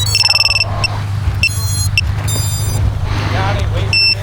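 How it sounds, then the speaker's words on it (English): Repeated high-pitched electronic beeps from the beeper on a KingKong Fly Egg 130 FPV racing drone, short tonal bursts spaced irregularly over a steady low hum, with someone talking throughout. "As you can tell, there's a beeper on there"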